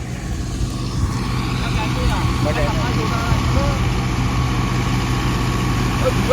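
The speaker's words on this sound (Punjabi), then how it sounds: "ਟਰੈਕਟਰ ਖਾਲੀ ਚੱਲਦਾ" A tractor engine idling at a wheat-threshing site, a steady low mechanical rumble throughout, with people talking over it.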